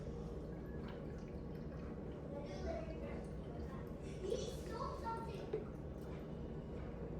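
Water pours steadily into a foam cannon tank with soft trickling and sloshing, running under quiet talk throughout.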